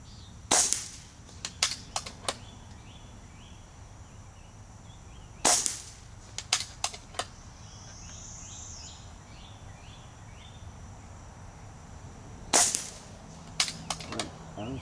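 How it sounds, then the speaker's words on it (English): Mrod air rifle fired at a target at high charge: three sharp, close shots spaced several seconds apart, each followed by a few quick metallic clicks and taps, over a faint steady background hum. "let's shoot at the right target this time."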